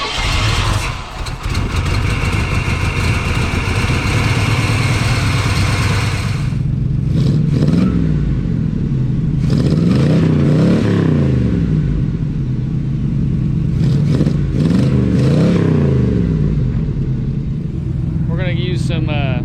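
A junkyard Oldsmobile Cutlass engine fed from a boat fuel tank cranks and catches, then runs loud and close with rough, surging revs that rise and fall repeatedly while people talk over it.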